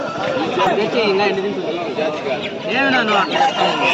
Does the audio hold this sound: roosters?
yes